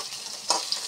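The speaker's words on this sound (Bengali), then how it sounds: "প্রথমে কাঠকল আর 4 গোটা আলু ভাজা করে নিচ্ছি" Spiny gourd and four potatoes frying in oil for a crab curry, a short close sizzle with a stirring scrape and a couple of light ticks.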